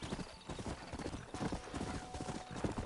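Rhythmic clip-clop of horse hooves trotting at a steady pace in a Wild West video game, with a brief whinny and faint background noise.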